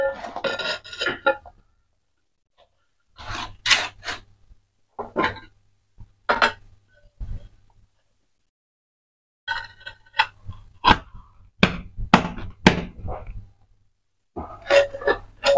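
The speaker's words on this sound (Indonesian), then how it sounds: "Jangan lupa dipalu-palu dikit supaya dia rata." Ceramic bathroom tiles are tapped level with a hammer, producing clusters of sharp, hard clicking knocks in irregular bursts, separated by silent gaps.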